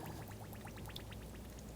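DOT 3 or DOT 4 brake fluid poured into the reservoir of a Nissan Rogue, a faint, brief trickling pour with light splashy droplets against steady background noise.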